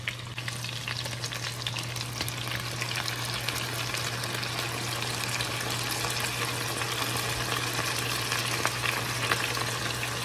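Jarred tomato and basil pasta sauce cooking in a pan, a steady dense sizzle and bubbling that continues evenly without a break, close and fairly loud with no voices.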